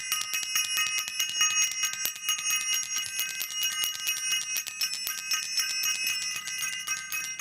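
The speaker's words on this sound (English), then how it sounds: "I want to ring the bell." A bell is rung repeatedly at a quick, steady pace, bright ringing tones sustained throughout without any voices.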